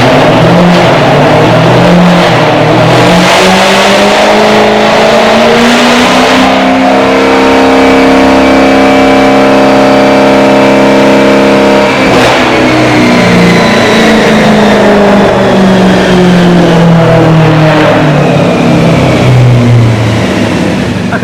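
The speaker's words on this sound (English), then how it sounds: "Simon, so she's run on the dyno" Tuned Jaguar XF engine revving hard on a dyno, loud and continuous, its pitch climbing steadily through the gears, dropping briefly, then rising again in a long sustained run.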